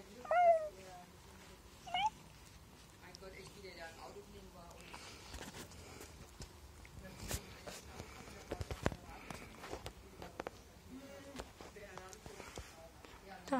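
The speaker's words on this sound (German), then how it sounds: "Da ist noch eine Katze." Cats at a cat protection shelter meow several times, rising calls that come close and clear at first and then recur more faintly, with footsteps, shuffling and light knocks in a quiet room.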